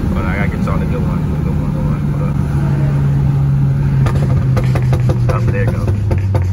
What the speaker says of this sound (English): I'm about to downshift